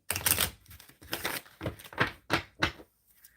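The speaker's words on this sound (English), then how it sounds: "I'm shuffling for the blessed one." A deck of tarot cards being shuffled in a series of quick riffling bursts, close and fairly loud, with short pauses between them and no talking.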